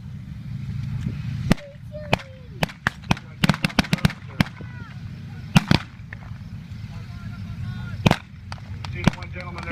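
Scattered sharp gunshot cracks from a Browning automatic rifle and other weapons at a WWII reenactment battle, some single and some in quick pairs, ringing out at mid distance over a steady outdoor rumble while voices talk underneath.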